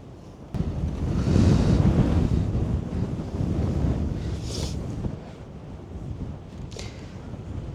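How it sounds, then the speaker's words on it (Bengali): Strong mountain wind blows hard across a suspension bridge in Hunza Valley, Pakistan. A steady, loud, gusty roar swells sharply after a moment, then eases a little but keeps rushing. No one speaks. "প্রচণ্ড রকমের বাতাস হচ্ছে এখানে"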